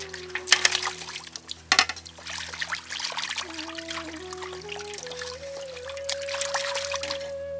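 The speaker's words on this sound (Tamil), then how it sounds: "கோழிக்கறியை நல்லா சுத்தமாக கழுவி எடுத்துக்கலாம்." Water trickles and splashes nearby as chicken meat for biryani is washed, with intermittent louder splashes early on and then a steadier pour whose pitch climbs as a vessel fills.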